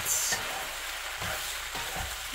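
Tomato and basil pasta stirred in a hot pan, a steady close sizzle with soft scraping strokes recurring every half second or so, no voices over it.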